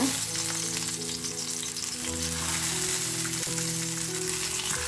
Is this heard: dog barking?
no